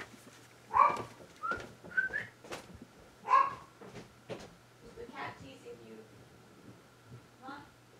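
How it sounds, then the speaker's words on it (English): A dog barks at a neighbouring cat in a home, giving several sharp barks and whimpers at close range while a person talks over them. "There goes the dog barking at the cat next door."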